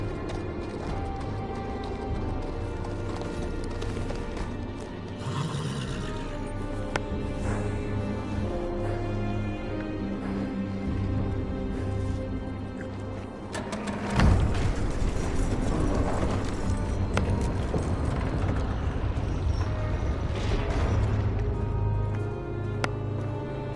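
A horse clip-clops up to a gate in a Game of Thrones video game, hoofbeats and creaking mechanisms running steadily under swelling orchestral music, with a heavy crash-like surge partway through.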